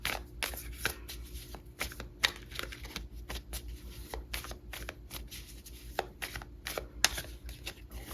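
Tarot cards are shuffled and pulled from the deck, giving close, quiet riffling and snapping bursts with soft card slaps between them, a few sharper flicks, and no voices.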